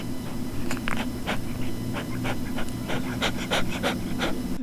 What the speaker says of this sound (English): I had to kick the dog out because she was panting too loud